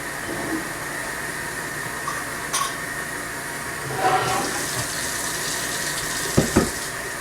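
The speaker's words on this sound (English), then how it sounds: "Fill them up with hot water" Jars filled with hot water from a tap, a steady close rush of running water with a few brief clinks and knocks near the end, moderately quiet with no talk.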